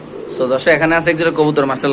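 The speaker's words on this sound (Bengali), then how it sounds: "এই যে এলো কবুতর" Pigeons at a bird seller's stall, including a female Baghdadi pigeon, coo in soft repeated throaty phrases close by, heard over steady talk between sellers and buyers.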